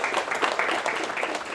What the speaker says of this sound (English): I would love to give a big round of applause to the panel here for giving us their time